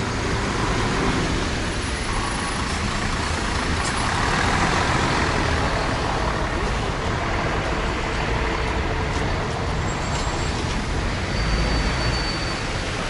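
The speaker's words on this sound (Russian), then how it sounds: "Светофор. Куча людей. Машин. Очень сильный шум." Busy street traffic at a pedestrian crossing forms a loud, continuous roar of passing cars, trucks and buses, with occasional higher hisses and no voices.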